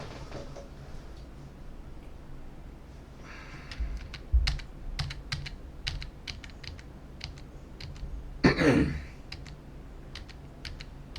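Quick bursts of computer keyboard keystrokes and clicks come from a player during an online game, irregular taps clustering in the middle, with a louder rustling clatter near the end.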